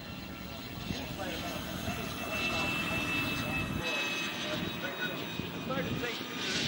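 A C-17 jet in Thunderbird colors flies at the EAA AirVenture airshow in Oshkosh, a steady distant engine rumble and whine running under an announcer's continuous talk.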